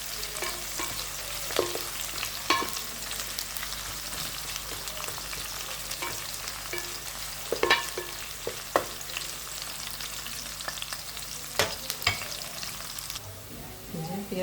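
Chopped onions browning in hot oil with cumin and whole garam masala in a Bengali home kitchen, a soft continuous sizzle broken by intermittent scrapes and clicks of a stirring spoon, fairly quiet and without voices.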